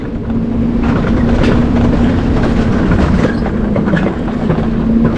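Alpine coaster ride at Bukovel in the Carpathians: a steady, loud rolling rumble with a rhythmic rail-like clatter from the running track, continuous throughout with no talk.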